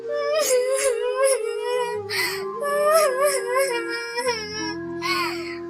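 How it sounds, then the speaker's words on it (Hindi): A cartoon bird, Tuntuni, cries in high wavering wails and sobs that rise and fall continuously across several seconds, loud and close, with a steady low hum beneath. "टुनटुनी की रोने की आवाज सुनकर रानी चिड़िया वहाँ आती है"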